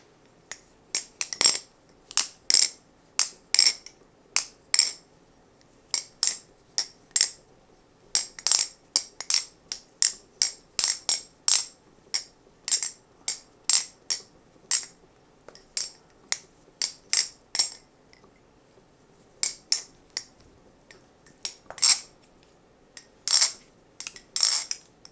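A Squid Industries Hydro balisong knife is flipped repeatedly, giving crisp, light metallic clicks and clinks in rapid irregular bursts with short pauses, close-up and otherwise quiet.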